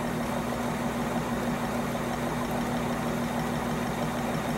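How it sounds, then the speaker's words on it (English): A wheel on a homemade free energy device spinning up, giving a steady dense whirring drone with a constant low hum, close and unchanging throughout, with no voices. "So the wheel's picking up speed right now."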